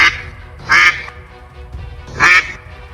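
A cartoon mother duck quacks loudly twice, two strong spaced bursts over a steady background bed, with no talk.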